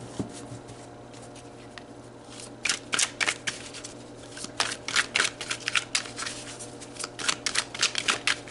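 A tarot deck is shuffled close up in bursts of crisp riffling and flicking, following a quiet pause and then repeating steadily over a faint hum; no one speaks.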